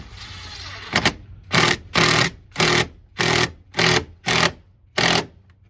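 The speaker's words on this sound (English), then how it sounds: "I'm using a little bitty 12 volt impact, so it's not like it's gonna be stripping shit out just terribly." A little 12 volt cordless impact wrench works on an upper radiator hose of a 2012 Ford F250 6.2, firing in seven or eight loud, close hammering bursts of about half a second each, separated by short pauses.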